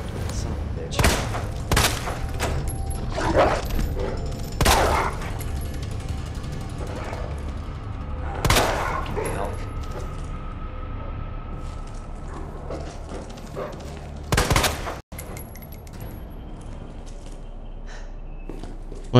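Repeated loud gunshots in the video game Resident Evil 2 Remake, fired in a dog-infested area. A dozen or so sharp, widely spaced blasts cut through a steady low game rumble, with a voice at times.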